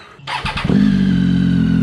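A 2017 Triumph Tiger 800 XCx fitted with a Dan-Moto exhaust cranks over with a brief starter whir and catches, settling straight into a loud, steady, close idle.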